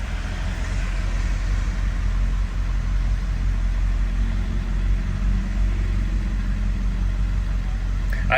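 A 2000 Ford Excursion with a 7.3 Powerstroke diesel idles just after starting, a steady deep rumble that holds evenly and loud close to the engine.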